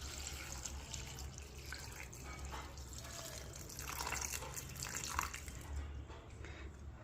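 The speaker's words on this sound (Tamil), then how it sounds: "இதெல்லாம் முங்குற அளவுக்கு தண்ணி ஊற்றிக்கலாம்." Water pours steadily into a cooking pot with a gurgling, splashing wash that swells slightly toward the middle, close by and moderately quiet.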